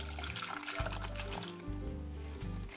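Blended coconut pudding mixture pouring into a saucepan, a close, continuous liquid glugging and splashing with thick gurgling pulses throughout.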